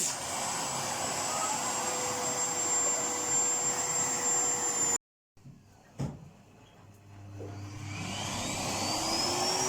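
A Siemens vacuum cleaner, just repaired, roars steadily and loud, then cuts off abruptly. After a thump it starts again, its whine rising as the motor spins back up to a strong continuous drone.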